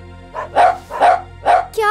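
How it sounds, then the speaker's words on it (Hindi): A dog barks in a Hindi cartoon, three loud, close barks at an even pace, ending in a short burst of voice. "इतना भौंक क्यों रहे हो?"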